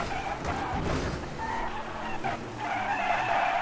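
A race car in NASCAR 21 skids and flips, with screeching tire squeals and scraping bursts over a rumbling engine, moderately loud and continuous, with no one talking.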